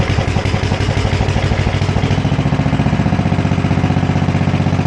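Sears ST10 garden tractor engine idling steadily up close, a loud, even rhythmic chug with mechanical clatter and no break throughout.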